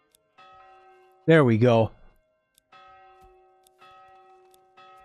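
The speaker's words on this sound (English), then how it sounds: "That's a church bell." Church bell tolling in the medieval city-builder game Manor Lords, a clear sustained ringing tone struck several times at intervals, with a man's brief spoken remark cutting in partway through.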